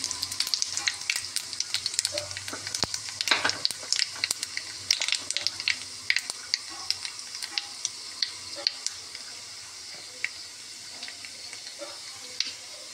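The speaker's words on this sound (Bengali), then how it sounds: "কড়াইতে তেল গরম হয়ে গেছে, কালো জিরে একটু ফোড়ন দিয়ে দিলাম" Black cumin seeds hit hot oil in a kadai, crackling and popping in dense bursts that slowly thin into a quieter, steady sizzle.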